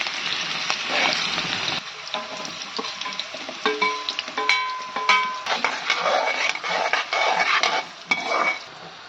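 Potatoes frying in a pan for upvas bhagar, with steady close sizzling punctuated by scraping and metallic clinks of a spoon stirring against the pan.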